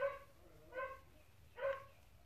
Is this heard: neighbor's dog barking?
yes